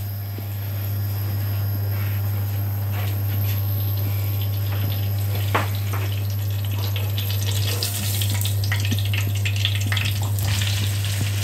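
Food sautéing in a frying pan for a mixed empanada filling, a steady sizzle and crackle with stirring scrapes and bursts that swell louder toward the end, over a constant low electrical hum.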